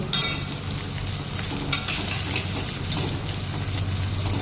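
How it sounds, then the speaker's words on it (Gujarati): Okra sizzles and crackles steadily in hot oil in a home kitchen pan, with occasional stirring scrapes breaking through the close, continuous frying hiss. "તેલ મૂકી દીધું ગરમ થવા અને ભીંડા થોડીક વાર ફ્રાય કરી દો."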